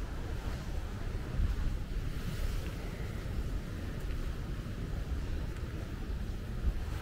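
Ocean waves break and wash steadily at Guajataca beach, a continuous broad roar of surf mixed with wind buffeting the microphone, with no voices.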